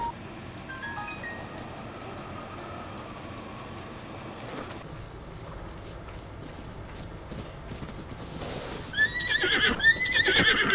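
Horse in Zelda Breath of the Wild, with soft game chimes and quiet ambience early, then a loud whinnying neigh and hoof clatter rising near the end, close and alone without talk.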